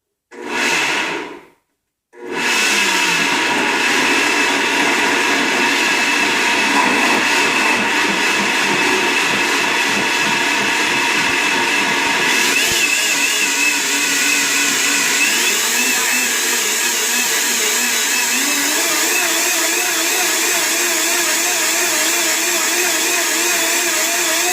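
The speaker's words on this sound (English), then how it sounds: "You just put your blender on and you..." A kitchen blender runs loud and close, with a short whir, a brief stop, then a long continuous roaring whir. The pitch shifts slightly partway through as the contents blend, and there is no talk over it.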